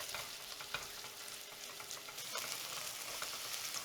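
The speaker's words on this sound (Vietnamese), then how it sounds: "Mình cho vào nồi 1 muỗng canh dầu nè, rồi mình cho hành tỏi băm vào phi thơm lên." Minced shallots and garlic fry in a tablespoon of oil in a pot, giving a faint, steady sizzle with occasional light stirring clicks, quiet and close.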